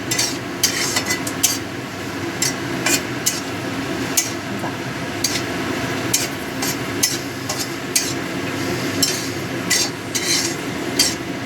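Cashew nuts frying in hot ghee while a spoon stirs and taps against the pan, giving a steady sizzle with regular metallic clinks.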